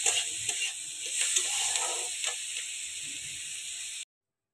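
Onions fry in a pan with capsicum and chilli for pav bhaji, a soft, steady sizzle and hiss with a few faint stirring scrapes that stops abruptly after about four seconds.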